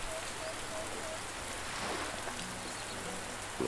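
Rain falls steadily in the video game Under a New Sun, an even wash of patter with no voices over it.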